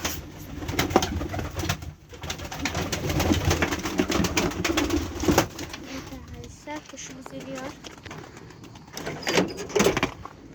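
Tumbler pigeons coo and flutter nearby in a loft amid a busy, cluttered background, with people talking throughout and occasional clattering noises.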